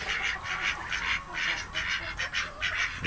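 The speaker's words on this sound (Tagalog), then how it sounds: "Saka yung dalawang itik." Domestic ducks on a Filipino backyard homestead give a steady run of repeated honking quacks, a flock calling together at close range with no talking.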